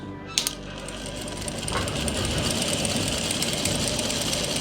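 A sewing machine stitches a plazo seam, with a few clicks at first, then a steady, fast mechanical whirr and rattle running evenly and close, with no voices.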